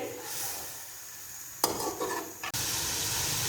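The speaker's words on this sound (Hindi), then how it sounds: "अब जो मेरे पास बॉयल किए चने थे, मैं वो डाल दूंगी, और तकरीबन 5 से 6 मिनट के लिए अच्छे से करूंगी इनकी भुनाई" Boiled chickpeas are tossed into spice masala for chana pulao, a sudden clattering drop followed by a louder continuous sizzle and some stirring scrapes close by.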